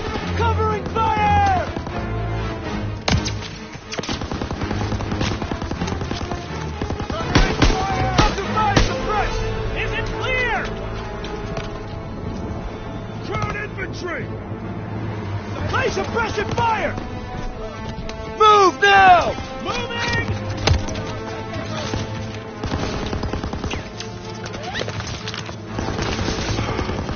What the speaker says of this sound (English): Keep pressure on that MG! Move up! Go, go, go! Covering fire!